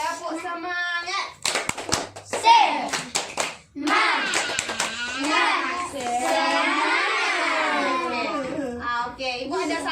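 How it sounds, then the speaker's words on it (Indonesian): A fifth-grade class in Indonesia performs the 'tepuk semangat' clapping routine, sharp rhythmic hand claps alternating with children's chanted voices, loud and close, with a teacher's voice leading between bursts. "yuk kita tepuk semangat dulu"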